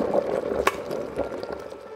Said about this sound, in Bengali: জল ফুটে গেছে, এটা অফ হয়ে গেছে।